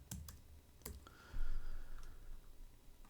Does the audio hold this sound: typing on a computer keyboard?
yes